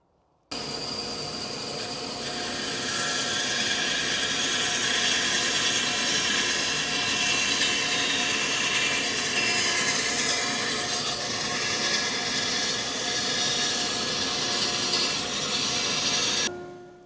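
A saw, likely a bandsaw, cuts a wooden board for a DIY outdoor bench in one continuous loud pass of about sixteen seconds, steady buzzing whine with no talk, stopping abruptly at the end.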